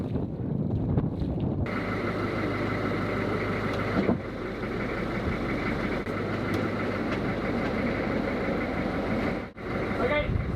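A boat engine just started in a boat yard idles at a steady low rumble, close by, partly masked by heavy wind buffeting the microphone, while people talk nearby.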